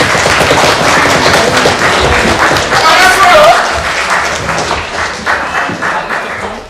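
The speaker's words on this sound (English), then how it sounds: "We'll get a round of applause as they come" Wedding guests applaud as the bride and her father enter, a loud, dense round of clapping that runs throughout with cheering and voices mixed in.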